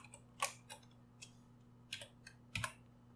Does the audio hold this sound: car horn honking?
no